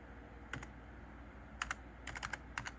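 Typing on a computer keyboard in quiet surroundings: a few separate clusters of crisp, light keystroke clicks, then a quicker run of taps near the end, with no talking.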